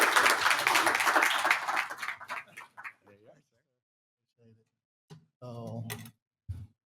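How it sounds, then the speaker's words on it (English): An audience at an automotive seminar claps in a dense burst of applause that fades over about two seconds, leaving scattered claps, then near silence broken by a few brief sounds. "give a big round of applause for Brad"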